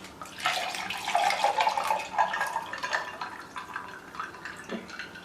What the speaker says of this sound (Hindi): अब मैं इसमें ठंडा पानी डाल दूँगी।